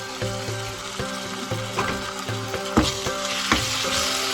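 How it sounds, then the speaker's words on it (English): Ginger garlic paste fries with browned onions in a pan over medium to high heat, giving a steady close sizzle throughout with repeated soft stirring scrapes and clicks. "We are going to fry until the ginger garlic's raw smell is gone."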